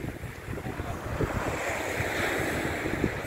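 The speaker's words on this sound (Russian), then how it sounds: "Атлантический океан." Atlantic Ocean waves and surf on the English coast, a steady broad wash of breaking water with wind noise buffeting the microphone throughout.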